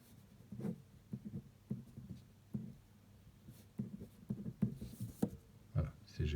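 A pen or pencil draws a geometry figure by hand, with short scratchy strokes in uneven bursts, close and quiet, no talking.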